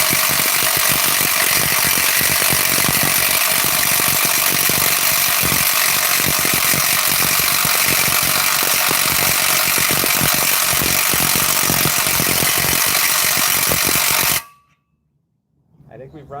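A weak battery-powered impact wrench working on a truck, its loud continuous rattling hammer running close for about fourteen seconds before cutting out abruptly into near silence.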